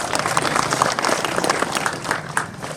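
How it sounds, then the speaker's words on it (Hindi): An audience at a Hindi comic poetry gathering breaks into sustained applause, a dense, even wash of many hands clapping at close range for a few seconds before it begins to thin out. "एक बार ताली बजा करके आप इजाजत दो।"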